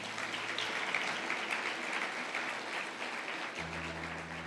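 A church congregation applauds during a sermon, a dense, even wash of clapping from many hands that holds steady, with a low hum entering near the end.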